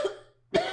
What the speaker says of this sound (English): I got a little coughing to do here.